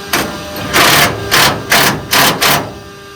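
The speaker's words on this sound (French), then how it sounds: "Et maintenant je serre à la clé." A wrench tightening a bolt on a car being rebuilt from a rusted wreck: loud, close rasping strokes repeated five or six times in a steady rhythm, with short pauses between them and no talk.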